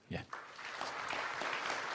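A conference audience at an industrial security panel applauds as a panelist is introduced. A brief loud voice comes first, then a steady wash of clapping swells and holds under faint talk.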